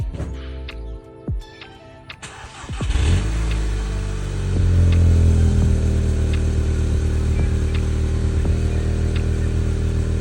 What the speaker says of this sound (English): Cold start of the stock exhaust.